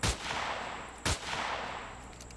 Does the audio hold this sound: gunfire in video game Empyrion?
yes